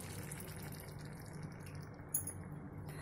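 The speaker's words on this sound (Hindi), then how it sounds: "मैं इसमें 1/2 कप पानी ऐड करूंगी" Half a cup of water poured into a fried masala in a pan for bhindi gives a steady soft gushing and splashing, close and continuous, with a faint clink near the end.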